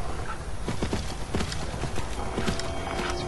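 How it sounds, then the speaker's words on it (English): Skeleton horse hooves clip-clopping in the Skyrim video game, a steady run of hoof beats at close range, with a brief whinny-like sound and background game ambience and no talking. "It's rad on my skeleton horse."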